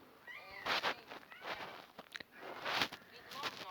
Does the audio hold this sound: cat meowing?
yes